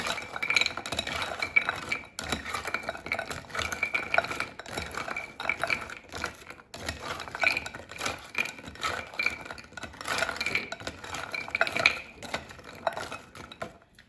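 Cauliflower gnocchi being tossed in oil in a bowl, giving a steady busy run of stirring, scraping and light clinks of utensil on dish, close and continuous without speech.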